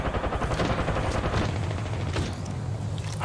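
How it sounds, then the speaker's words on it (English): Rapid automatic gunfire from enemies in the Apex Legends video game rattles in dense, continuous bursts, loud and close, with booming reports trailing off toward the end. "The enemies are shooting at me."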